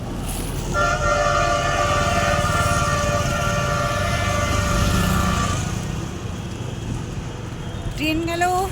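A train rumbles past close by, its horn sounding a long sustained blast over the heavy rolling noise, then the roar fades and a short squeal is heard near the end.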